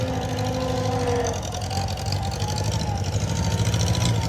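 A 1950 Farmall Cub tractor engine idles and revs with throttle, a close, loud, steady rumbling drone with a slight rise in pitch partway through.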